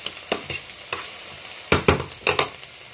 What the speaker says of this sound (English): So that's our onion is cooking.